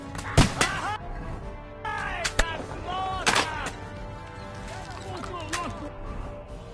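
Cannon blasts and gunfire in Kingdom Come: Deliverance 2 during a fortress assault: several sharp, loud reports break through a busy battle din, with voices shouting in the background.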